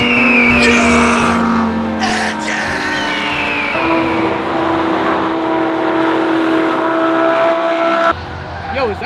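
Race cars at a Daytona track night event, loud engines revving and accelerating with tire squeal, close and continuous, mixed with crowd and voices.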